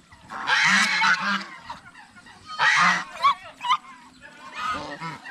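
Loud, harsh honking gobbles from fighting male turkeys come in three bursts, close by, separated by brief pauses filled with quieter bird noise.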